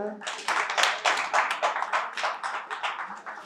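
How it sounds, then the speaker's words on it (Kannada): A classroom audience claps together in a brisk, even burst of hand claps that holds steady for several seconds and is close and fairly loud. "ದೊಡ್ಡ ಚಪ್ಪಾಳೆ ಅವರು"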